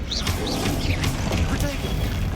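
An Incendio fire spell is cast in Hogwarts Legacy, a loud, continuous roaring whoosh of flame layered with busy game effects over the whole moment.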